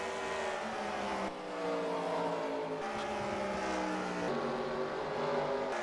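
Race cars of the Super 6 Short Track Series run on the Bristol dirt short track. Their engines drone as layered tones that bend up and down as several cars pass, heard at a distance and fairly faint.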